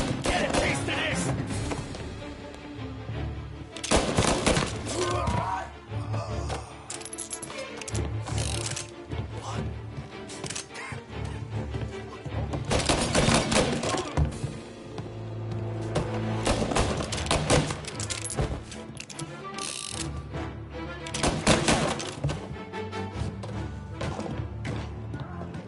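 Gunfire in Mafia Definitive Edition, repeated loud bursts and single shots scattered through a busy mix of game music and mechanical clatter, with voices talking between the shots.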